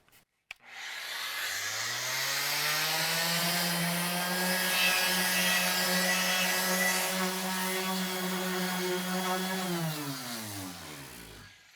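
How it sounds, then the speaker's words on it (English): Orbital sander fitted with 120 grit sandpaper sanding a door, spinning up with a steady, loud whirring drone that holds for about nine seconds and then winds down, with no talk. "I'm just using an orbital sander with 120 grit sandpaper."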